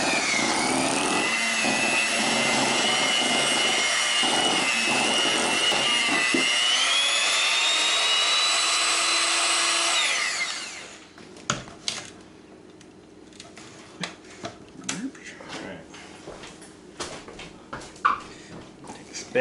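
Electric mixer on its first setting blending powdered sugar for a no-bake raspberry pie filling, a steady loud whir for about ten seconds that then cuts off, leaving quiet scraping and small knocks.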